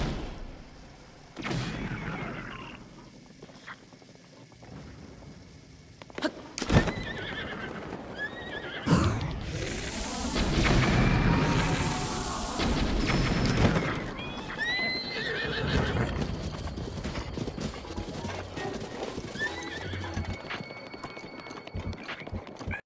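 Horses neighing and clip-clopping amid bomb arrow explosions in Zelda: Breath of the Wild, loud whinnies and hoofbeats with bursts of blasts and game effects, dense and close throughout.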